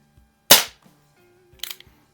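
Two gunshots ring out about a second apart while plinking at a splatter target, the first a sharp crack and the second softer, each short with no talk around them.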